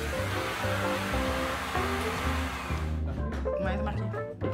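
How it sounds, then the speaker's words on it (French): A central vacuum cleaner runs with a loud, steady airy roar for about three seconds. The roar then thins out, leaving fainter hum and other sounds. "Hey, on aime ça assez, cet aspirateur central-là?"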